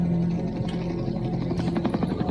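Helicopter rotor from a TV drama scene, a steady droning whir with rhythmic thumping that grows busier and more pulsing toward the end, loud and continuous with no talk.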